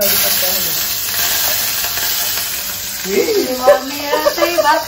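Green chillies and curry leaves sizzle in hot oil in a home kitchen, a loud, continuous frying hiss with crackles close by, and a voice speaks over it near the end.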